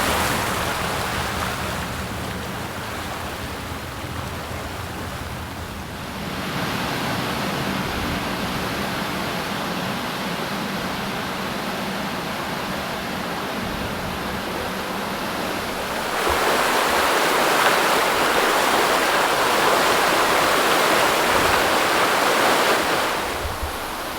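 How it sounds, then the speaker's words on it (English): A ferry crossing the Kiel Fjord near Kiel, Germany, producing a loud, continuous rush of wind and water that briefly dips, then swells louder toward the end, with no talking. "So I just hopped on and will ride this ferry"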